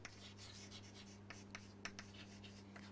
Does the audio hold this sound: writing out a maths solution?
yes